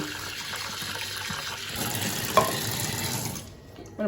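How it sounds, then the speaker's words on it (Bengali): Dark water is poured out of a pot after washing grains, a continuous splashing, running-water sound close by that fades near the end. "তবুও আপনাদেরকে দেখানোর জন্য একবার জলটা ফেলি দেখুন একটা কালো কালো জল বেরোচ্ছে"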